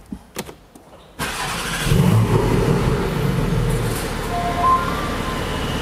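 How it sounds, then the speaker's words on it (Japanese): Porsche 718 Boxster Spyder with a sports exhaust starting up: a few faint clicks, then the engine fires with a loud roar and revs, settling into a strong, steady, throaty idle. "この最初のですね、エンジンの吹き上がりとかっていうのはこうすごくこう官能的な感じの音がします"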